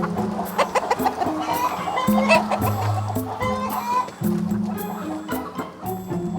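A flock of hens in a vast egg-laying facility cluck and squawk continuously, overlapping calls close and busy, with a narrator speaking over them.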